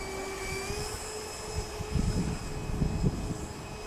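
A radio-controlled Boeing 737 MAX-8 model airplane gives off a steady high-pitched engine whine with sustained tones, heard alone and close by on the ground, with soft low bumps partway through.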